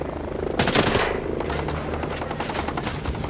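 A rapid burst of automatic video game gunfire rattles out, loud and close, followed by a trailing volley of quicker, fainter shots.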